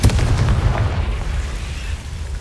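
A Confringo blasting spell in the Hogwarts Legacy video game lands as a loud, low booming explosion, its deep rumble sustained throughout this short burst.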